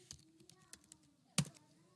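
Quick, light taps on a computer keyboard as the word Qualcomm is typed, a few soft keystrokes ending in one sharper click, with a faint hum in the room.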